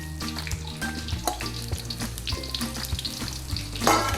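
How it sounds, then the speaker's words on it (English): Onions are stir-fried in a pan for chicken do pyaza, a constant crackling sizzle close by with repeated light knocks and scrapes of the stirring utensil. "So this is going to be a very, very quick stir fry."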